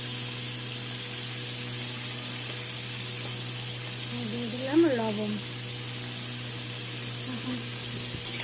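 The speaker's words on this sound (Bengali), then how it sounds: "এখন কোয়াশ আলু ভেজে নেব।" Potatoes fry in hot oil for a Bengali drumstick and vegetable dish, giving a soft, continuous sizzle while someone speaks briefly over it.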